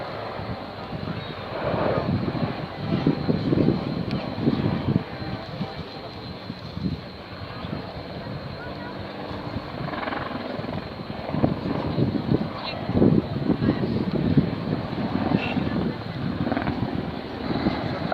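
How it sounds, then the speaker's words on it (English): An Apache attack helicopter's engines and rotors drone steadily at a distance during a flying display, a continuous rumbling whir that swells and fades slightly over time. "the Apache is capable of flying on just a single engine"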